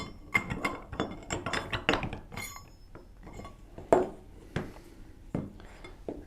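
DeviCore wrenches are handled to open the tool casing, producing a close series of sharp metallic clinks and knocks in an irregular rhythm, busier at first, then sparser, with no talking.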